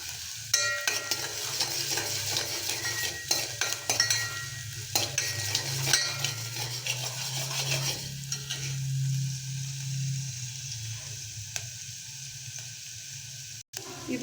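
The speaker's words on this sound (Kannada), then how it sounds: "ಸ್ವಲ್ಪ ಈರುಳ್ಳಿನ ಫ್ರೈ ಮಾಡ್ಕೊಳ್ಳೋಣ" Chopped onion frying in oil with cumin seeds, a steady sizzle with stirring scrapes and occasional utensil knocks against the pan, close and continuous for over ten seconds with little talk.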